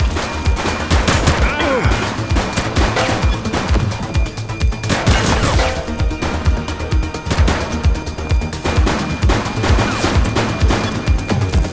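Rapid automatic gunfire and scattered shots crackle loudly and continuously through a police shootout in the video game The Precinct, with dense bursts and a brief voice underneath.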